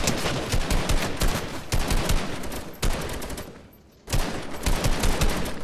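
Gunfire in the video game Fortnite, loud dense automatic bursts rattling almost continuously, with a short lull before the shooting resumes.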